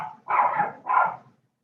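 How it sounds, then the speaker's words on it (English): A dog barks twice in quick succession, fairly close and loud, with a short pause between the two harsh barks. "Somebody's dog is barking."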